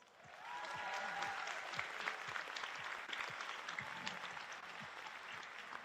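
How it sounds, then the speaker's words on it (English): Sustained audience applause fills the room at a 2024 high school scholarship night, rising quickly and continuing steadily, with no talk over it. "A big round of applause for Justin Kelly."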